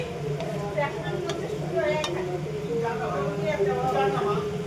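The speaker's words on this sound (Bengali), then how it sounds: "আলুর সাথে মশলাটা কষুক।" Potatoes and spices sautéing in a pan with tomatoes and garam masala, a steady soft sizzle with occasional stirring clinks while someone talks over it.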